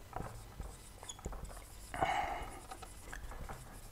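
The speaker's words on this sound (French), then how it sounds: "j'écris vérification" Marker or chalk writes a word on a classroom board in short scratchy strokes, the clearest stroke in the middle, with faint room noise and movement around it.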